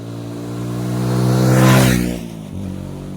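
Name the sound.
motorcycle passing by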